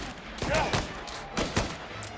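Bursts of rapid gunfire in the video game Mafia: Definitive Edition crack out in two close volleys, loud and sharp, with a faint hum between them.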